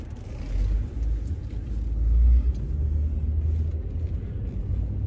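A car on a long evening drive home, a steady low road rumble with engine drone throughout, moderately loud and continuous with no talking.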